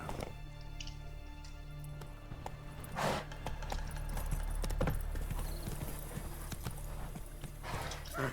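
Hooves of the horse Roach clip-clop steadily in The Witcher 3 video game, a continuous galloping rhythm over a steady low rumble, with a couple of brief louder swells along the way.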